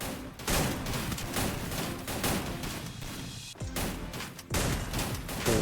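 Rapid bursts of shotgun fire in the Free Fire battle royale game, loud repeated blasts with short gaps and echoing tails, no talking.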